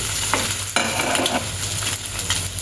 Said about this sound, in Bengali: ডিম ভাজা হয়ে গেল, এখন মুশকিল হচ্ছে ওঠানো।